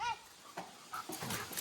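A dog whimpers in short, thin bursts outdoors, faint and a little distant, with small gaps between the whines and some background noise.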